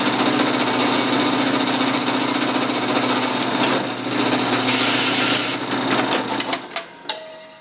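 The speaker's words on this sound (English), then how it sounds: "when I come back I'm going to drill it" A power drill whirs steadily and loudly for several seconds, then winds down and stops, followed by a few sharp clanks.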